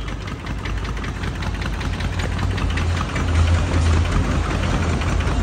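A mini Sonalika tractor's diesel engine starts and runs with a loud, rough, rapid knocking chug that holds steady close by and gets a little stronger toward the end.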